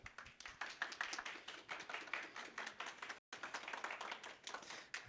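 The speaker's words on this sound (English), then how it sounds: "Give them a quick round of applause." Audience at an MSU Denver student advisory council town hall debate gives the candidates a quick round of applause, dense steady clapping from many hands filling the room, with a brief break near the end before the clapping resumes.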